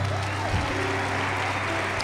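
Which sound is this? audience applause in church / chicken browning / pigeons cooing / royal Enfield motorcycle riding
audience applause in church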